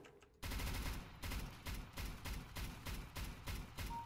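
Dual Berettas pistols fire in CS:GO Arms Race, a loud run of rapid shots in regular bursts that carries on without pause over game ambience.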